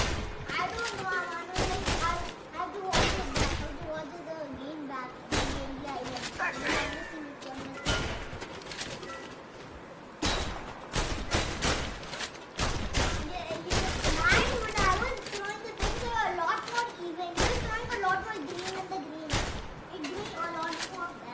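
Gunfire in a VR shooting range game, with sharp, loud shots in irregular bursts and single cracks across the whole stretch, while voices talk over and between the shots.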